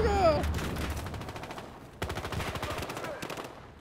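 Bursts of rapid gunfire from the video game Battlefield Hardline, sharp repeated shots in two clusters with a short pause between, loud and close over game noise and faint voices.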